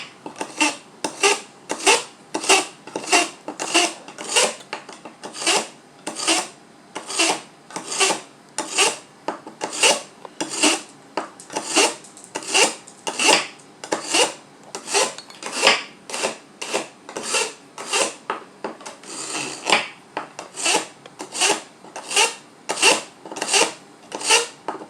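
A Harbor Freight knife sharpener grinds a butter knife in rapid repeated rasping strokes, a steady scraping rhythm that goes on without pause, close and loud with no talking.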